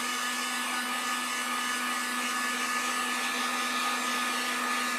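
A hair dryer or heat tool blowing steadily over acrylic paint, a loud constant whir with a fixed motor hum and no pauses.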